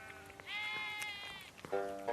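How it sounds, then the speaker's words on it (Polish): Sheep bleat close by in a barn, a couple of wavering calls one after another, in a quiet indoor space with faint rustling. "O tej porze roku owce są zamknięte w oborze, a Ben mieszka z nimi"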